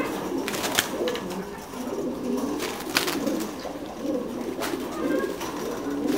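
Thai Titan meat pigeons in a loft coo continuously, several birds overlapping in low, throaty calls close by, with soft rustling in between.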